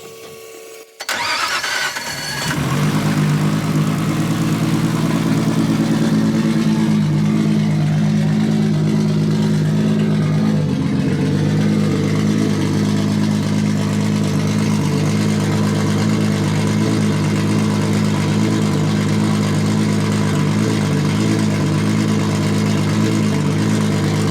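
Built 700hp Nissan R32 Skyline with an RB engine cranks and fires up, then settles into a loud, steady, close idle with a slight rise in pitch partway through.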